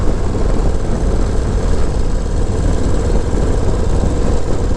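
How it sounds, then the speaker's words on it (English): A Harley-Davidson Low Rider ST motorcycle is being ridden, giving a loud, steady, deep engine rumble mixed with wind noise and no talking. "Been like a while since I've been on the bike, so I'm just out here enjoying the ride right now."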